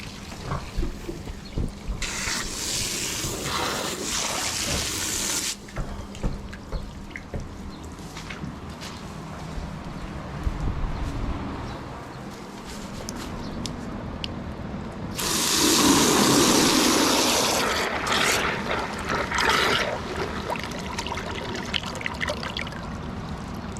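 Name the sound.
water being dumped out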